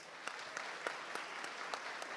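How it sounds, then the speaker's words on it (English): Faint, steady applause from a banquet crowd at an anniversary fundraiser, a soft wash of clapping with a few sharper claps standing out, continuing evenly throughout. "Let's give them a big round of applause again"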